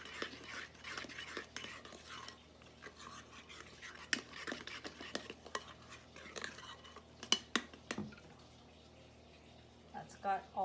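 A spoon stirs spice cake batter in a bowl, soft scraping and clinking strokes close by, with quiet talking over the mixing.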